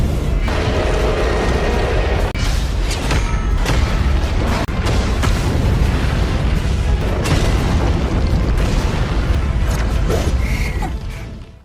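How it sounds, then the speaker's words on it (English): An animated fireball technique the size of the sun erupts as a dense, continuous roaring explosion that stays loud and rumbling for over ten seconds before cutting off. "activates a massive fireball technique the size of the sun"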